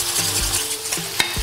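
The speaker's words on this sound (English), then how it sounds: "we're gonna give it a stir as we add a little bit of olive oil." Chicken curry in a pan sizzles loudly as olive oil goes in and a spoon stirs it, giving a continuous frying hiss broken by scraping strokes and one sharp knock.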